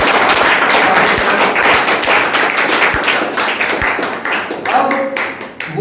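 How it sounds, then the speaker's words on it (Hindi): Loud, close applause and clapping at a ceremony honoring selected candidates, with sharp hand claps and occasional thuds standing out, tapering slightly toward the end as voices mix in. "एक बार फिर जोरदार तालियां"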